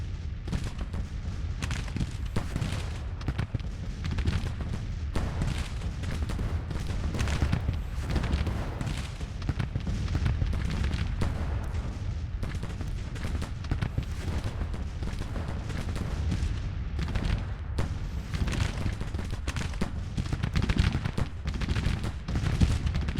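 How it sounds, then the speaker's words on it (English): Continuous rumbling artillery bombardment and rapid massed gunfire in the Civil War strategy game Grand Tactician, dense booms rolling on without pause for over twenty seconds. "Let's order Garnett to bombard the Union position."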